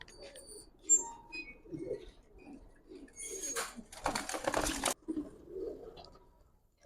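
A male Giribaz pigeon, a pure-line tumbler, gives low, muffled coos near at hand, broken midway by a burst of clattering, rustling noise.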